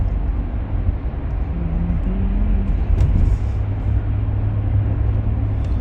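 A car cruising along Lake Shore Drive in Chicago, its steady low road rumble and engine drone continuous and fairly loud throughout, with a brief tonal hum in the middle and no talking.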